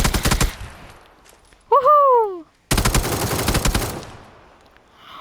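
Rapid bursts of automatic gunfire in a shooter video game, loud and close, broken by a short tonal sweep between the volleys.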